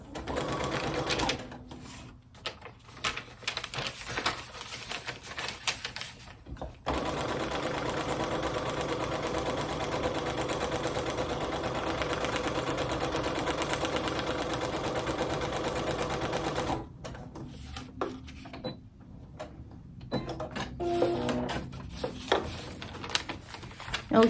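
A sewing machine stitches along a marked line on braid paper, running in a long steady mechanical whir with shorter start-stop bursts before and after.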